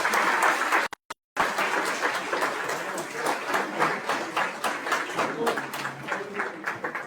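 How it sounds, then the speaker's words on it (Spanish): Steady applause from a university audience welcoming a speaker at a psychology faculty talk, broad and sustained with dense clapping throughout and a brief dropout near the start. "denle un fuerte y cálido aplauso a Óscar Maldonado"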